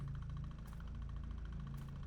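A backup generator in the game Fear & Hunger 2: Termina runs with a steady, droning mechanical hum and a regular pulsing beat. It holds at an even loudness, with no talk.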